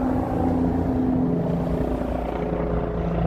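A helicopter drones overhead in Chicago's South Side near the Green Line, with a loud, steady engine and rotor hum that stays constant throughout.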